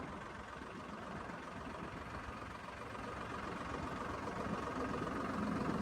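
A tractor engine drones steadily in a soggy field where one tyre has sunk into the mud, a faint, even rumble that slowly grows louder, with no talking.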